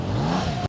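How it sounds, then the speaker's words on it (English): A motorcycle engine revs in a short, loud burst, the pitch climbing and then cutting off abruptly, heard close up during a slow-speed riding practice session. "You heard him rev the engine?"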